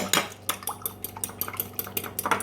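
A raw egg and olive oil being stirred together in a bowl, with quick clinking and scraping of a utensil against the bowl in an uneven rhythm, close by and without speech.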